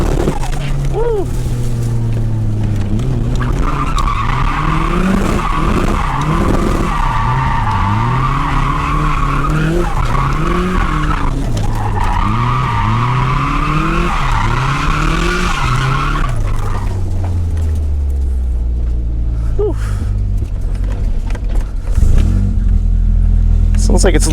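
A Subaru drifting on a novice drift day, with engine notes rising and falling and long, loud tire squeals sweeping up and down, continuous and close throughout.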